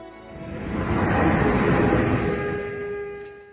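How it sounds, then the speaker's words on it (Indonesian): A Jakarta MRT metro train rolls past as a loud, swelling rumble with a steady tonal whine, building and then easing away over a few seconds. "Sekarang kita punya MRT"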